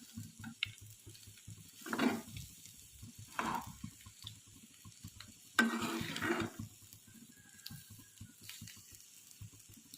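A spatula scrapes and stirs ivy gourd egg fry in a pan, a soft sizzle running underneath; a few scattered scraping strokes, close but fairly quiet, with no talk.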